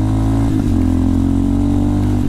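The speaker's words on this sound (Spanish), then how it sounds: "la motocicleta empieza a correr sabroso a partir de la segunda velocidad de engranada" A Vento Crossmax 300 Rally motorcycle engine revs loudly up close while overtaking a car, pitch briefly shifting mid-clip as it changes gear, then holding a strong steady drone.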